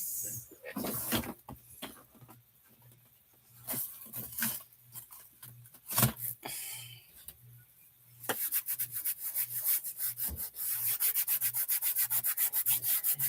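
A scratchy pad scrubs a dried gel plate mat in repeated rough rubbing strokes. The scrubbing starts as irregular passes and then becomes a fast, even back-and-forth rhythm, close and crisp.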